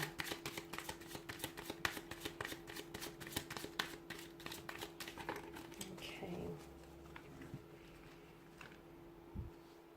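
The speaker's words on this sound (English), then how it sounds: "let's go ahead, give the cards a shuffle" Rapid riffling and flicking of tarot cards shuffled close up for several seconds, then a pause with a soft tap near the end.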